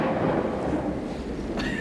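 Stage thunderstorm effect in a Shakespeare play, a deep continuous rumble of thunder with rain texture, loud and steady throughout.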